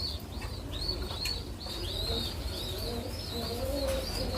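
Racing pigeons coo in a soft, repeated series of low calls with a few chirps mixed in, close by and fairly faint, with no voices over them.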